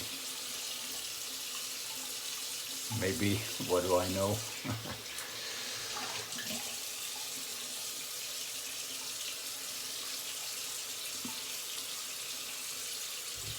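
Cold water runs from a tap into a sink during an old-fashioned shave, a steady close hiss and splash lasting throughout, with someone briefly speaking over it.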